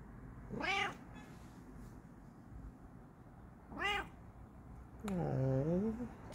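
A Bengal cat meows close by: three distinct calls spaced a few seconds apart, the last longer and lower, over quiet room background with no talking.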